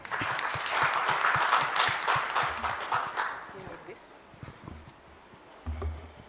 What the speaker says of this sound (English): A stronger hand clap.